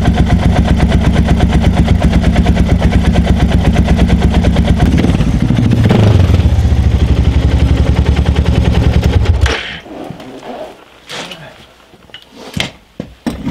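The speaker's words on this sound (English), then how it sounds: "I turned the choke all the way off, and the bike wants to die" A Suzuki DR650 motorcycle engine running with the choke off makes a loud, close, rapidly pulsing thump that stumbles and dies away, followed by a few scattered clanks and knocks.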